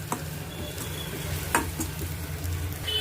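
Green chillies frying in oil with curry leaves and asafoetida for a cucumber tempering, a continuous close sizzle with a few stirring clinks and scrapes, no voices.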